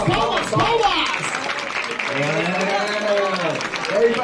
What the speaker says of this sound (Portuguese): Palmas, família, palmas, palmas, palmas!